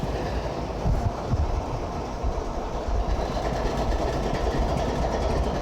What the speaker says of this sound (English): a pretty big train, so it's probably gonna move pretty slow. Shitload of grain on it.